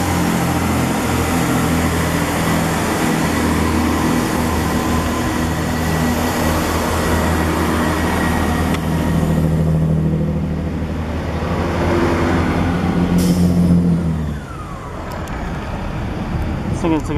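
A Class 165 diesel train departing Guildford station rumbles steadily with a low droning hum, then the sound drops off abruptly near the end; no talk is heard.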